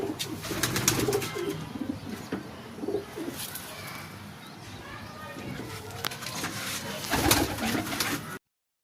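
Pigeons coo repeatedly at close range, low murmuring calls overlapping in steady rhythm with chirps and occasional wing flaps, amid background chatter of people talking.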